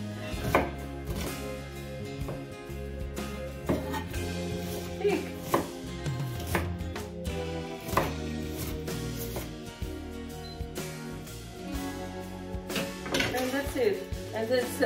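Knife chopping vegetables into big pieces on a board for vegan borscht in a home kitchen, steady irregular taps under continuous talking and music with occasional clinks of dishes.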